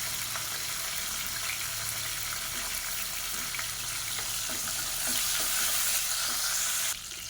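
Small shallots and green chillies crackle and sizzle steadily in hot oil for a Tamil kasakasa kuzhambu, a close, continuous frying hiss that swells louder near the end before dropping off abruptly.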